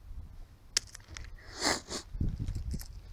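Nose sniffling outdoors from someone without tissues, a few close, breathy sniffs and snorts at irregular moments over faint background rustle, with no talking.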